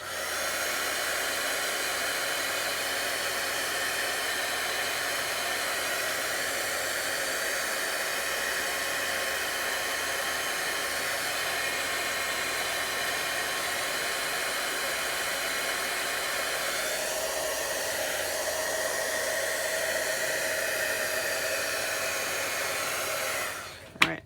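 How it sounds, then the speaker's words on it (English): A heat gun blows steadily on alcohol ink paper, a continuous loud, even whoosh of hot air held for over twenty seconds with a slight shift near the end before it cuts off abruptly. "And I don't hold my heat gun on it, that's just too much heat."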